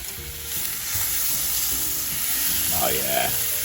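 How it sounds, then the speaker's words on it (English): Filet mignon steaks on a grill after flipping, a loud steady sizzle that persists throughout with a faint brief tone late on. "Okay, we're gonna give these a flip."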